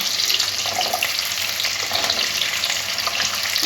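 Onion with green and yellow capsicum fry in a pan for chicken Manchurian, a steady close crackling sizzle with soft scraping stirs running throughout and no voices.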